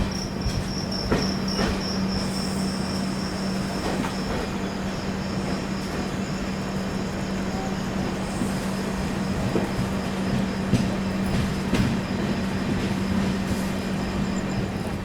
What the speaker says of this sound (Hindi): चलिए निकल चुकी है अपनी महाबोधि एक्सप्रेस सासाराम जंक्शन से।